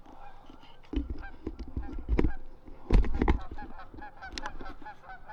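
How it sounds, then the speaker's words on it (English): A flock of geese honking during a waterfowl hunt, repeated loud overlapping honks in bursts, some close and some farther off, no speech. "you guys could probably hear all the geese"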